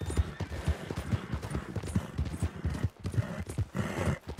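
Horse hooves clip-clop in a steady, close rhythm in Red Dead Redemption II, joined by a whinny, filling the whole stretch with no talk.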